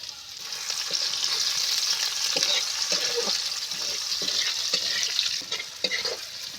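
Onions frying for a rohu fish curry with pui greens, after garlic has already browned in the pan: a steady, close sizzle runs throughout, broken by a few soft stirring scrapes and clinks.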